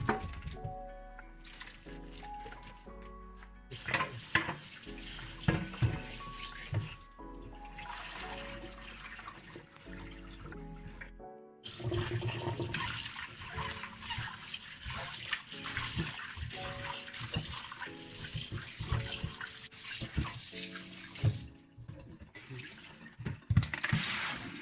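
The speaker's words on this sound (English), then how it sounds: "And then drain the pork and rinse it a few times." Tap water gushes and splashes over boiled pork being rinsed for zongzi, running in bursts with short pauses and squishy handling noises between them, close and fairly loud.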